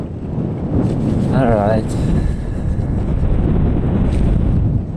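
Strong wind buffets the microphone in a continuous, loud roar during a bicycle ride in the United Arab Emirates, with someone briefly speaking over the rushing gusts.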